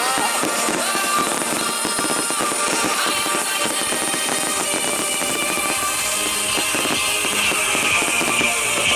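An outdoor after-dark fireworks display in the UK bursts and crackles continuously, with dense overlapping explosions and sparkling crackle at a loud, steady level throughout.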